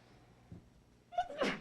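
A single person sneezes close by, a sharp burst after a short intake of breath, in a quiet room during a village board meeting; low background murmur beforehand.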